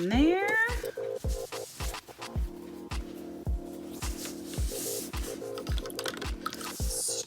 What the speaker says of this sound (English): So you're gonna put a bunch of drops in there.